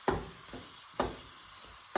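Chicken and peppers cook in a non-stick frying pan, with a steady sizzling hiss punctuated by three distinct scraping knocks of a utensil against the pan, roughly one second apart, close and moderately loud.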